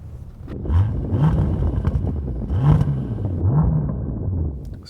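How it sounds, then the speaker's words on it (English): Porsche 911 GT3 engine revving in repeated rising blips over a steady low rumble, fairly loud and close, with no talk. "Go on, rev your engine."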